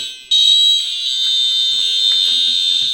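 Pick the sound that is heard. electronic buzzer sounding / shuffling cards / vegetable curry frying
electronic buzzer sounding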